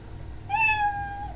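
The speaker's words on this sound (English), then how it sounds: "it will meow" A cat's meow plays from an MIT Scratch program, a single clear, drawn-out electronic-sounding meow that starts after a short quiet pause and tapers off at the end.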